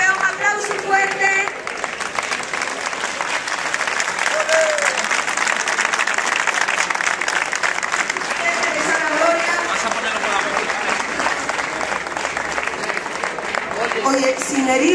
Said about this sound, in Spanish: aquí el campeón, aplauso fuerte.